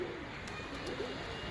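Pigeons coo softly outdoors, a few low, faint warbling calls against a steady background hiss with a couple of faint clicks.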